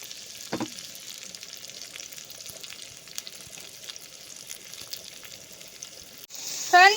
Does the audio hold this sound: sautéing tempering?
yes